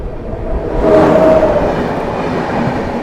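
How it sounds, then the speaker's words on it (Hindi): The Swatantrata Senani Express from Jaynagar to New Delhi rolls past nearby. Its rumble swells to a loud peak partway through, then holds as a broad, steady roar. "स्वतंत्रता सेनानी एक्सप्रेस जयनगर नई दिल्ली स्वतंत्रता सेनानी जा रही है भाई।"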